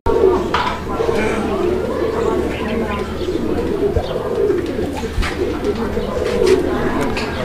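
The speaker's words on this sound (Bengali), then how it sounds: "তো দর্শক কবুতরগুলোর ডাকটা কিন্তু আমি শুরুতেই আপনাদেরকে দেখানোর ট্রাই করছি, আপনারা দেখছেন।" Indian Golla pigeons cooing in a loft, a steady run of soft, throaty coos from several birds close by, with a faint voice murmuring underneath.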